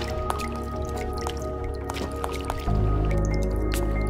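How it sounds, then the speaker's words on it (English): Video game water droplets plip and plop repeatedly into a pool in Tomb Raider Legacy, over a steady background hum, irregular and close, with a louder low rumble joining midway. "the little plip-plop of the water droplets falling off of me"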